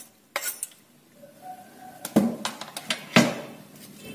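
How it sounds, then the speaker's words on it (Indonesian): A utensil stirs and scrapes a pepes mixture of spices, basil, oyster mushrooms, sliced chili and tomato in a bowl, giving a few sharp clinks and knocks spaced irregularly, close and fairly quiet, with no voices. "Kita aduk lagi sampai tercampur rata."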